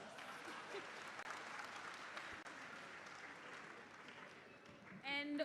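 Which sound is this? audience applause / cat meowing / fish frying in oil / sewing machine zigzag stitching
audience applause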